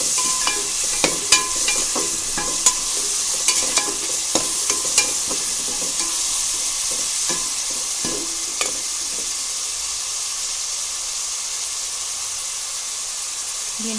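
Tomatoes fry and sizzle in a pan with a steady hiss, while a utensil stirs and scrapes with scattered clicks and taps over roughly fourteen seconds.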